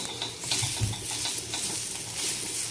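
Onion roasting in a pan, steady close sizzle with soft scraping and stirring strokes throughout, no voices.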